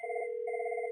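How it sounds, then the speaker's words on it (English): A telephone ringback tone heard on an outgoing call placed to the PSTN through a Cisco CallManager Express system, a steady pair of tones held with a rapid pulsing cadence, loud and close, with no talk. "it's ringing out to the PSTN"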